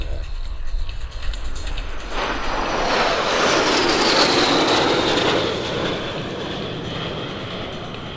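Black Diamond Jet Team aircraft roar overhead in a close formation belly pass, right to left, at an airshow, the engine noise swelling to a loud peak and then fading as they move away.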